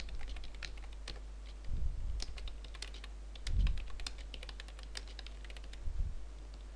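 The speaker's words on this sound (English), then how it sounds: "Type some text here." Typing on a computer keyboard: quick, light key clicks and taps pattered steadily across the whole stretch, close by and fairly quiet, with a few soft heavier thumps between them and no voices.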